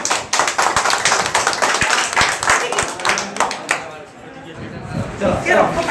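Crowd at a 2022 panchayat election gathering in Rameswar claps in sharp, rapid bursts over voices and chatter, then the applause thins and fades before a few claps return near the end.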